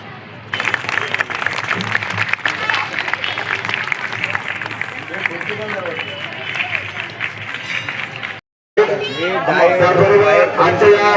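An audience claps at a lecture held at a Buddhist vihara for Mata Ramai Ambedkar's birth anniversary. The clapping is a broad patter mixed with loud speech and crowd chatter, briefly cuts out, then resumes strongly.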